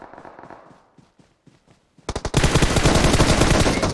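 A few scattered shots crack out, then a loud, rapid burst of automatic gunfire from a video game rattles on without pause.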